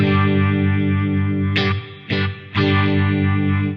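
An electric guitar runs through the Eventide H90 pedal's bedroom vibes program, giving sustained chords with a wavering vibe modulation. The tone cuts out and returns twice in quick restrikes near the middle.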